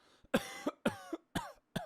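A voice imitates a child's cough: four short, harsh bursts in an uneven rhythm, close and fairly quiet, with no talking around them.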